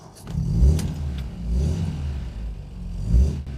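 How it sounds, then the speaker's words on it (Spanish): A 1967 MGB's small 1.8-litre engine revs close by in three distinct surges, each rising to a throaty low growl and then settling back between blips. "vamos a escuchar ese pequeño motor"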